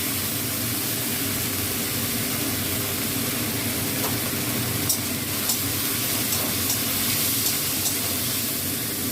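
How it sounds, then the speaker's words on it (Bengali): Ginger-chili paste and grated potato hitting hot oil, producing a steady, broad sizzling hiss that holds evenly throughout, with a few faint ticks from the pan. "তেলটা গরম হয়ে গেছে, আমি এবার আদা আর কাঁচা লঙ্কা বাটাটা দিয়ে দিচ্ছি।"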